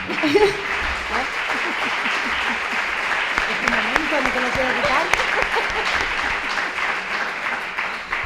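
Applause from the audience at a conference panel on equity, a steady clapping bed that runs throughout while a speaker talks over it.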